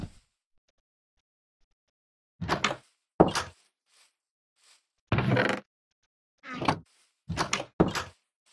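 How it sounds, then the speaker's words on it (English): Wooden door in Minecraft swinging open and shut repeatedly, a series of short clunky knocks in pairs spaced across the stretch, fairly close and alone with no talk. "the door sounds so much different now"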